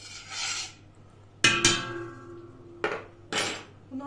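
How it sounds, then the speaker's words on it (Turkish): Salt water being stirred into water in a jar gives a few sharp clinks and scrapes of a spoon against glass, two close bursts followed by two more after a pause, with no talking. "Ve bunu karıştırıyoruz."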